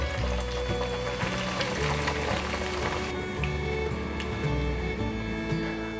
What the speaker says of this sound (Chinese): 现在把它炸出表面焦香